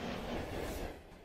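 An EP07a electric locomotive runs along the line in the MaSzyna train simulator game, a faint, steady rolling rail noise with a soft clatter that eases off toward the end.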